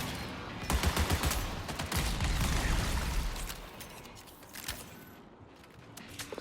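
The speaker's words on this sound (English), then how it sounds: "Just full on mag dump right on the commander." Sustained full-magazine burst of automatic gunfire in the Marathon video game, a rapid dense rattle for several seconds that tapers off, followed by a few scattered later shots.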